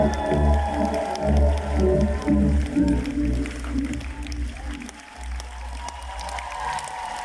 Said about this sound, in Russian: Друзья, ваши громкие аплодисменты.